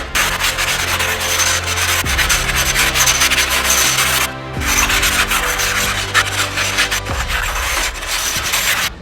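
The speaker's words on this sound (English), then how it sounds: "we're going to go ahead and just lightly sand over this whole cast iron" A stone rubs over the cast iron surface of a new Blackstone griddle, making loud, continuous, close-up scraping strokes with one brief pause partway through and no talking.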